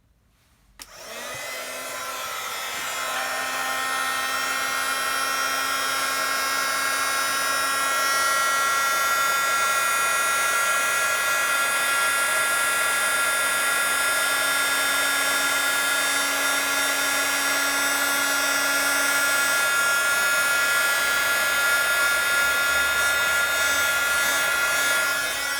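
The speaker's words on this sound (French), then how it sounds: "avec mon fer à chauffer, chauffer la poudre pour qu'elle devienne scintillante" A heat tool blows steadily for over twenty seconds, a loud, even whirring hiss with a whining fan tone, warming embossing powder on a handmade snowflake card until it turns glittery.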